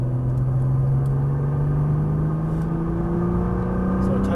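A Nissan GTR engine drones steadily from inside the car during a track lap, its pitch rising slowly under throttle with road rumble beneath.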